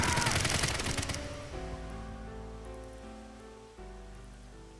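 Rapid video game gunfire from AI: The Somnium Files – nirvanA Initiative bursts loudly at the start, then cuts off as tense sustained music continues alone.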